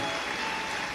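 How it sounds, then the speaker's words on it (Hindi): A large crowd at a Shiv Mahapuran religious discourse applauds loudly, the dense, steady clapping filling the whole moment without pause. "एक बार जोरदार ताली बजाकर इनके लिए साधुवाद हो।"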